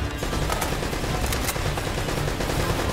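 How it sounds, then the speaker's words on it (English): Dense, continuous gunfire from the video game Uncharted: Drake's Fortune, overlapping bursts and rapid fusillades filling the whole stretch at a loud, steady level without pauses. "I don't know who's shooting like that, though."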